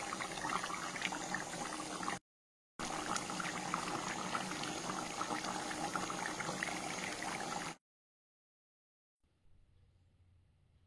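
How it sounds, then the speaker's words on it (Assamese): Local chicken curry with oil bubbles in a pot over a gas flame, a steady close hiss and seething boil that runs for several seconds, cuts out briefly, then drops away to a much fainter simmer. "এয়া মাংস প্ৰায় হ'বলৈ হ'ল, পূৰা উতলি আছে।"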